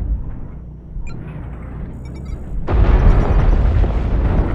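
Artillery strike explosions in the video game MechWarrior Online, rendered as a deep rumbling boom that swells into a loud, sustained roaring blast in the second half, with brief faint electronic tones before it.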